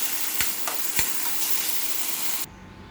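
Fenugreek greens sautéed in ghee with ginger, green chili and cumin, a steady close sizzle with a couple of soft stirring knocks before it cuts off abruptly.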